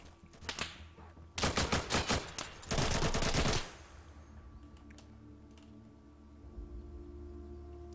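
Gunfire aimed at the player in Insurgency, with a few sharp shots followed by two loud rapid automatic bursts. The fire stops and leaves a quiet low hum.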